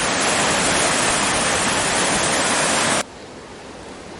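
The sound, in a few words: fast-flowing creek water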